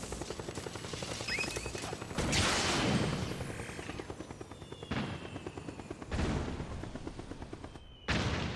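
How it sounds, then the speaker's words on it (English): Mortar fire and battlefield shooting in Metal Gear Solid 4: Guns of the Patriots, repeated heavy booms landing every second or so over a constant crackle of gunfire and a rotor-like drone, loud and relentless. "Maybe stop with the mortar?"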